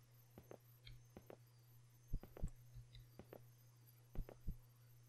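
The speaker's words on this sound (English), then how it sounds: "Like how you can hear the heartbeat." A faint heartbeat in the horror video game One Late Night thumps in soft paired beats at irregular spacing over a low steady hum, quiet and close.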